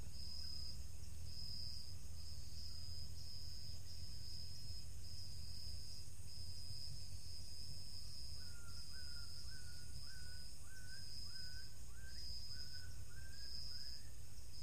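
A bird calls repeatedly in short rising notes against a steady night chorus of high, pulsing insect chirps, faint and distant.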